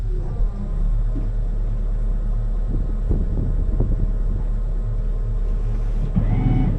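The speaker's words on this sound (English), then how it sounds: "bow thruster and stern thruster, and let's just back it up" Barbaros 33 lobster boat from Turkey backing up on bow and stern thrusters, a continuous loud low rumble and whirr that holds steady, with wind buffeting the microphone.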